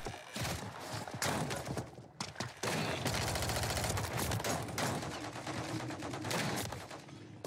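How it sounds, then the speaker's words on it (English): Rapid bursts of automatic gunfire in Call of Duty Warzone, loud and close, with a brief pause before a sustained stretch of steady, rapid shots fills most of the clip. "Kid shooting at me"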